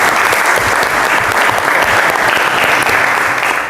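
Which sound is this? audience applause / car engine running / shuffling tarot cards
audience applause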